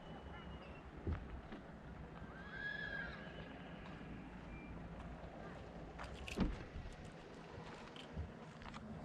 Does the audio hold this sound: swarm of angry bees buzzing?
no